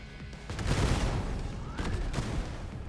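Rapid bursts of explosions and gunfire in the Kiborg video game, a dense loud barrage with overlapping blasts and impacts that continues throughout.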